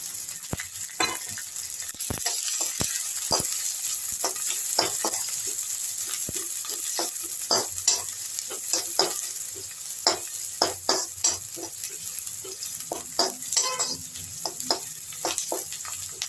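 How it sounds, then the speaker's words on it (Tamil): Onions sizzle and crackle in a hot pan, with frequent sharp pops and occasional stirring scrapes, close and steady throughout. "நம்ம இப்போ இந்த வெங்காயத்தை மட்டும் போடுவோம்."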